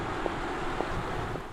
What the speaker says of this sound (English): Just tire and wind noises.